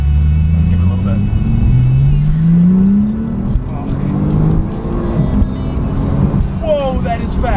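A 2017 Porsche 911 Turbo S accelerating hard, its engine note climbing steadily in pitch through a sustained loud rumble with brief shifts, heard from inside the car under occasional talk.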